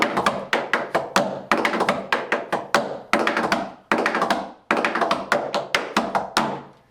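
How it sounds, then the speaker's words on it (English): Rapid, crisp tap-dance steps ring out loudly on a hard, resonant birch portable tap floor, coming in quick rhythmic bursts with short pauses between phrases. "That's the loudest portable tap floor I've tapped on."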